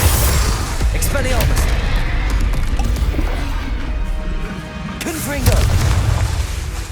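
In the video game Hogwarts Legacy, spell blasts go off as repeated heavy booms and crashing impacts. They come loud and close over a rumbling low background, with a sharp burst near the end.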